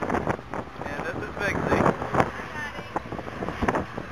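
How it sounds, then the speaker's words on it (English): Gusty wind sweeps across prairie grass on the Oklahoma Great Plains, with low rumbling buffets and a steady rushing hiss. A person talks over the wind. "prairie grass being blown in a little bit of a blustery wind"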